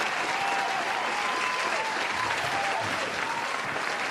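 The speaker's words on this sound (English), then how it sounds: "I guess you can call me rich because I'm applauding you." Sustained applause from a crowd, a dense even roar of clapping that stays loud and unbroken from start to finish, with no speech on top.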